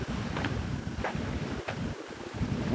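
Strong wind by the sea, a loud continuous roar buffeting the microphone with surf-like rushing underneath, steady throughout with no talk.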